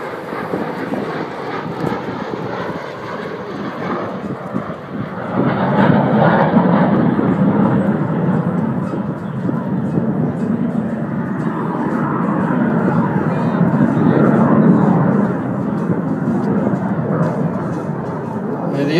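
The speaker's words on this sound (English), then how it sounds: "The airplane does have limited upside down performance, somewhat like once again an F-18." A propeller aerobatic airplane drones steadily through a flying display at Temora, its engine note swelling louder partway through and staying strong, with distant open-air rumble around it.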